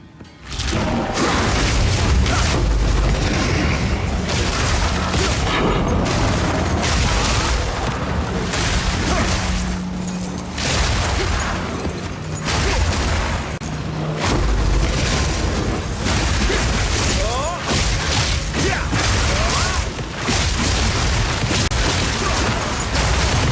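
Loud, dense bursts of booming and popping keep erupting almost without pause as loot explodes across a map in the video game Path of Exile 2, with a steady mechanical clatter underneath.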